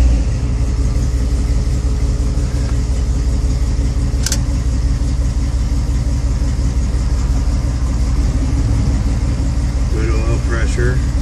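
A car engine runs loud and close in a steady, unbroken rumble as the vehicle sets off on its first short drive, with a single sharp click partway through.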